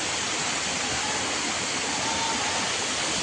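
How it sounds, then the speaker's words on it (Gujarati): Mountain stream at Jatashankar on Girnar near Junagadh rushes steadily as a dense, close wash of water, continuous and loud with no voices over it. "ઝરણું બહુ છે ગિરનાર જટાશંકર"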